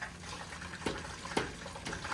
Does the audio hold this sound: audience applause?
no